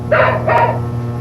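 Buster the dog lets out two quick, close barks in succession over a steady low engine drone from a simulated Beechcraft Baron 58P cockpit; no one speaks.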